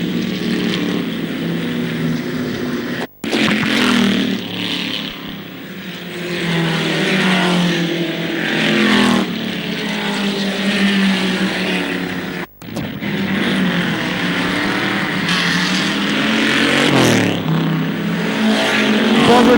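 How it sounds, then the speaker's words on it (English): Racing cars, a Camaro among them, roar past slower cars on the circuit at Mallory Park in 1974, a continuous loud engine drone with rising and falling revs and two brief cuts in the sound. "There goes the Camaro, past a few of the slower cars."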